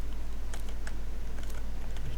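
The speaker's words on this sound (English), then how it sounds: "So for the testers, you can type this command" Quick irregular clicks of a computer keyboard as a command is typed, close and fairly soft, over a steady low electrical hum.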